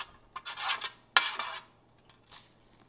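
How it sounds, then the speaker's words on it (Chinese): A utensil stirring yeast into a whole-wheat liquid starter of warm water and malt syrup in a bowl, several quick scraping strokes against the bowl with a sharper clink partway through, close and fairly quiet. "放入酵母后搅匀"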